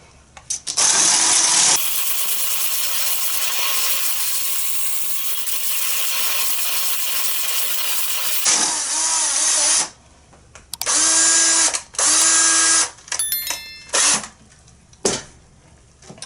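A power drill with a mixing paddle stirs concrete for a multi-color candle vessel, first in one long continuous whine, then in several shorter loud bursts separated by pauses.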